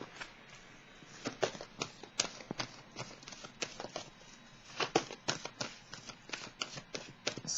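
Tarot cards are shuffled and drawn in a quick, close flurry of crisp riffling flicks and slaps, continuing in uneven bursts without a voice.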